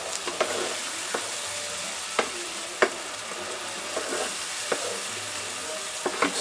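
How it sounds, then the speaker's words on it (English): Shrimp scampi with white wine sizzling in a pan as it is stirred, a steady soft frying hiss broken by scattered clicks and scrapes of the utensil against the pan, with no talking. "Keep stirring, stirring."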